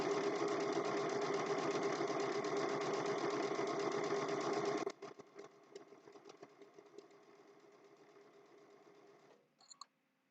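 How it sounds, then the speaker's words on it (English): A sewing machine runs steadily while stitching a regular straight stitch on a snowman-face mug rug, loud and continuous for about five seconds, then stops and leaves faint handling clicks and rustles. "And I'm just going to do a regular straight stitch."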